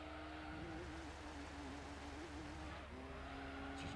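A race car in Gran Turismo 3 slides through a corner, its engine droning steadily with a wavering tyre-squeal tone, quiet and continuous with no talk.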